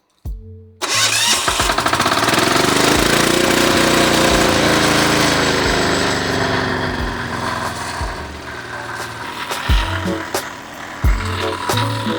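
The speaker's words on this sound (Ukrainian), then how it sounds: "Чекаємо, поки пройдуть люди, та запускаємо цей мотоблок." A Weima WM1100BE6 diesel walk-behind tractor cranks and fires up, then its engine runs loud and steady nearby, slowly easing off with some uneven knocks toward the end.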